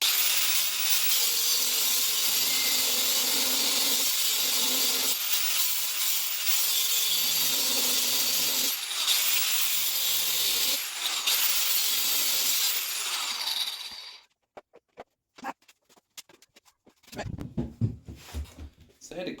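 An electric cutting tool grinds through steel threaded rod on a Crash Industries bar setup for a 2023 Kawasaki Z125 Pro, a loud sustained high-pitched whine for about fourteen seconds, then stopping, followed by clinks and handling noises.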